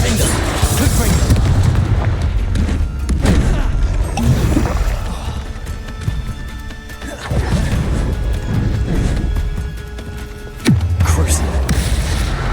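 A Confringo spell explosion in Hogwarts Legacy, heavy booming blasts and crashes mixed with game effects, several loud impacts spread across the clip under a dense, busy combat soundscape.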